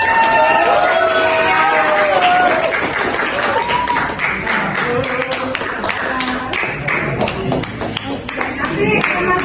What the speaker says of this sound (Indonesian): tepuk tangan buat kelompoknya.